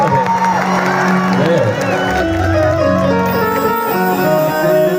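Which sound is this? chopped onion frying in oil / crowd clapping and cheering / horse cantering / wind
crowd clapping and cheering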